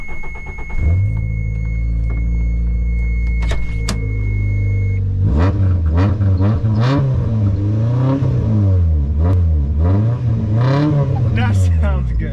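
A Toyota Tercel engine cranks and catches, then idles and is revved repeatedly in rising and falling surges, loud and close, with a voice talking over it.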